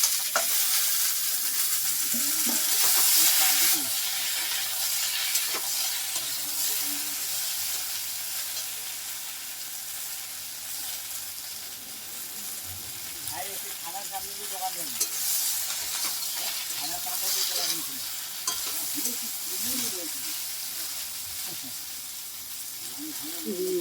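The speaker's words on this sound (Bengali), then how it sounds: "আলুটাকে আমি ভালো করে ভেজে নিচ্ছি" Ridge gourd and potato pieces frying in oil in a pan over lightly browned onion, a continuous sizzling hiss with stirring scrapes. The frying is close and steady, with a voice speaking over parts of it.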